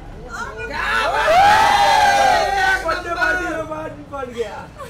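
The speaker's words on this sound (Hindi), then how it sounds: "अरे कौन चिल्ला रहे यार" A party crowd shouts, cheers and whoops loudly at a celebrity birthday party, with voices calling out over one another in a dense, close din for the full five seconds.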